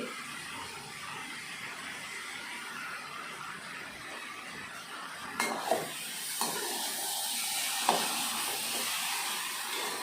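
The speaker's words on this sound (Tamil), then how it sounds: "நல்லா ஒன்று சேர கிளறி விட்டுக்கலாம்." Mango pickle being stirred with salt and chilli powder, a continuous faint wet rustle with a few sharp clicks of the spoon against the container partway through.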